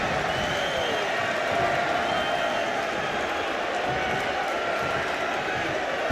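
A crowd at a WWE 2K25 wrestling match cheers and roars in a steady, dense wash of noise, moderately loud, under a commentator's voice.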